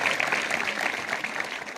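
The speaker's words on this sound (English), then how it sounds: "Can we clap for our girls and the entire community?" An audience claps steadily for a group of girls at a public community event, a dense, moderately loud patter of applause with no voice over it.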